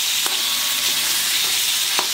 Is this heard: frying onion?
yes